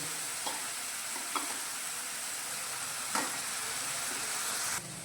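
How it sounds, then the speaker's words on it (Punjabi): Ground spices roast in a pan on a gas stove over low flame for Lahori chole with black pepper, giving a steady close sizzle and hiss broken by a few light stirring scrapes. "ਹੁਣ ਗੈਸ ਦੀ ਫਲੇਮ ਨੂੰ ਘੱਟ ਕਰਕੇ ਆਪਾਂ ਇਹਨਾਂ ਸਾਰੇ ਮਸਾਲਿਆਂ ਨੂੰ ਭੁੰਨ ਲਵਾਂਗੇ"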